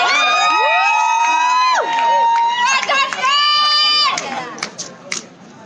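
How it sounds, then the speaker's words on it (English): Spectators at a chilli pepper eating competition cheer and shout, with high excited voices and whoops rising and falling in overlapping bursts, loud and close, then thinning out toward the end. "People cheer them on."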